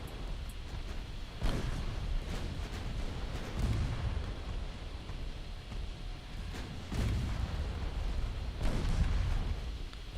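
Dreadnought-era naval guns fire in Ultimate Admiral Dreadnoughts as a series of deep, booming salvos and distant impacts rolling out at intervals over a steady low rumble.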